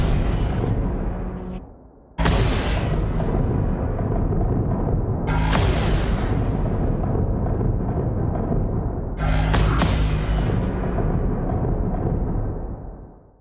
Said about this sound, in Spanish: Todo junto, las explosiones sería esto.